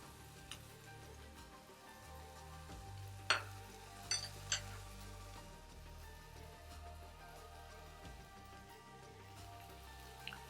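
Chicken apple sausage browning in a pan, a steady soft sizzle with a few sharp utensil clicks and scrapes near the middle, close and moderately quiet.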